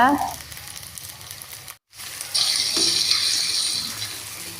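Onion-tomato masala frying in a pan for Tamil fish curry, a moderate sizzle with stirring scrapes, broken by a brief silent gap before the sizzle returns stronger.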